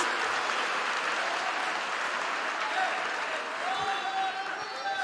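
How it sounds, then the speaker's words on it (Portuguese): Church congregation applauding during an evening service, a full continuous roar of clapping from a large crowd that stays even and unbroken, with a faint tone near the end. "Pode aplaudir, meus irmãos."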